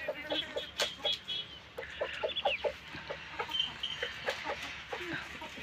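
Hens clucking close up on a farm field, a busy run of short repeated clucks and calls with a rooster among them, loud and steady throughout with no talk.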